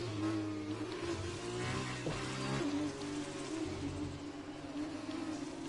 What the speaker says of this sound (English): Tell you what really grabs me, it's the difference in the car noise of the F2 and F1 cars.